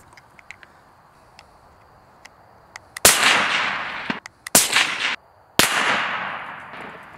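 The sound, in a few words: rifle shot hitting a steel target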